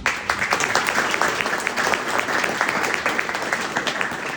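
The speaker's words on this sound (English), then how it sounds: "a round of applause for them" An audience at the inauguration of Assembly Member Claire Valdez applauds union-supporting leaders in the room, giving steady, dense clapping that carries evenly through the whole short stretch.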